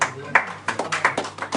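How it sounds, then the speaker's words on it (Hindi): Audience at a Ram Katha religious gathering claps in a short burst of about a dozen sharp, uneven claps, moderately close, with faint murmuring underneath. "लिए एक जोरदार ताली हो जाए।"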